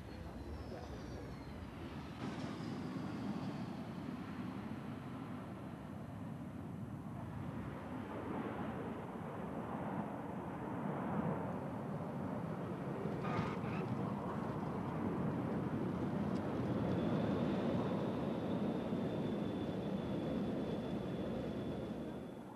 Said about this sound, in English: The British Aerospace 146 you see taking off is a short-haul airliner